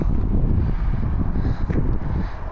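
Steady, loud wind buffeting the microphone in a forest, a dense low rumble that holds for the whole stretch with slight gusting dips near the end.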